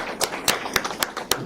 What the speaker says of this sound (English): why don't we give a big round of applause for these two middle schoolers